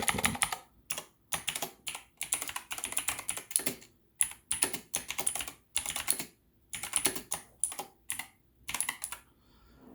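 Fingers type on a computer keyboard to enter a name in a RetroArch setup, with quick clusters of crisp key clicks separated by short pauses, steady and close, with no voices.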